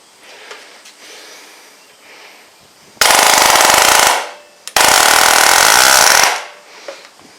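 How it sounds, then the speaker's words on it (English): A Grip Rite GRTMP16 mini air nailer fires into dense timber in two loud, sustained rapid bursts of rattling impacts, each lasting over a second, separated by a brief gap, with quiet workshop background around them. "We'll see if we can get this nail through this dense timber."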